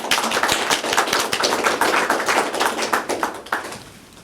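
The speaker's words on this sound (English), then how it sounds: "Okay, so let's just applaud him." An audience in an engineering lecture hall applauds a guest lecturer with dense, steady clapping from many hands that fades out near the end.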